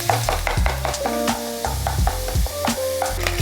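Ground pork fries in a pan for ramen with a pinch of kosher salt, cooking until crispy and caramelized. A steady close sizzle runs throughout, with repeated scraping stir strokes and no voices.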